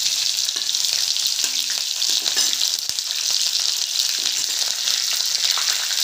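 Cumin seeds, garlic and green chili fry in hot oil in a pan. A steady, loud sizzle carries on throughout, with faint stirring scrapes and no talk.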